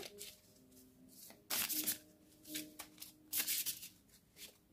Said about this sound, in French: Je brasse, je brasse, je brasse.